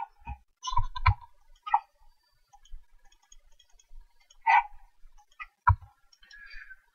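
Several scattered computer mouse clicks, sharp and close, sounding in small clusters with quiet gaps between them and no talk.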